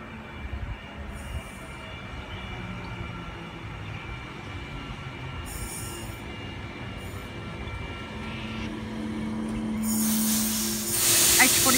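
A passenger train departing a station on the Port Kembla line at Woonona, with a low rolling rumble and a rising wheel squeal near the end, while a voice speaks over it.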